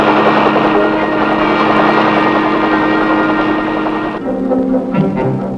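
Army helicopters in a Vietnam War air mobility operation produce a loud, steady rotor and engine roar with a low thrumming, which drops and shifts near the end of the sound.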